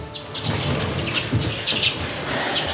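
Lesser redpolls call in an indoor aviary bird room: a scattering of thin, high chirps and twitters over steady low background hum, with no one speaking.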